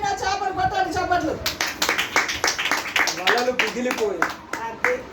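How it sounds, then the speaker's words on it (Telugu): Clapping at a cottage prayer meeting: a run of many quick claps from a group, close and lively, overlapping with a woman preaching. "చప్పట్లు."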